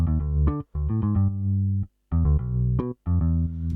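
Slap playing on a P bass in the Modo Bass 2 plugin: a run of punchy, bright bass notes in short phrases separated by brief gaps, with no other sounds.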